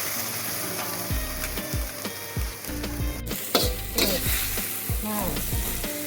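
Pad thai frying and being stirred in a pan at a cooking class station in Chiang Mai, with steady sizzling, scraping utensil strokes and clinks against the pan, close by.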